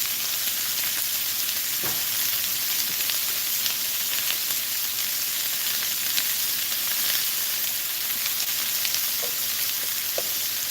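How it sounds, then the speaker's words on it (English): Garlic frying in a pan, a continuous soft sizzle and crackle with occasional pops and a faint stir, steady and fairly quiet throughout with no voices. "There goes our 2 pounds of garlic that we like to put on every meal."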